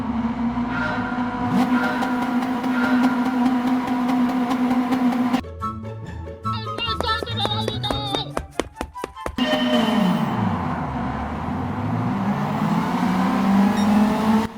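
Race cars roaring off a standing start in Gran Turismo 7 at Suzuka, a loud sustained engine drone broken midway by rapid shifting revs and bursts, then cars accelerating away together, with a voice commentating over the top.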